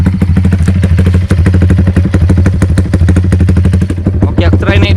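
Deep, throbbing motorcycle exhaust rumble running loud and steady up close, with a voice briefly speaking near the end.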